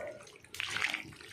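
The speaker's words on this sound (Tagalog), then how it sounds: "Kumukulo na po siya." Chicken skin sizzling and bubbling in a pot with garlic, starting quiet and then breaking into a loud, steady hiss of frying and boiling that carries on to the end.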